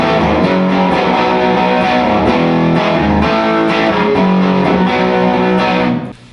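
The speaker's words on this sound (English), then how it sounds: "turn your guitar volume up, give yourself the distortion," Loud distorted electric guitar strums sustained chords in a steady rhythm, ringing continuously before cutting off abruptly at the end.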